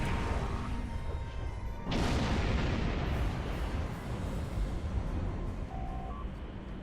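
Starship explosions in the space video game Star Trek Online: a sudden heavy burst partway through gives way to a sustained rumbling roar of blasts, loud and close, with no talk.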